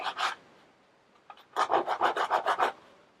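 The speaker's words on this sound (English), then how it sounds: "File the edges of this one quick." Quick rasping strokes of a file or sandpaper along the edges of a small homemade piece for an Altoids-tin fishing kit, two short strokes then a fast run of about eight even, close strokes.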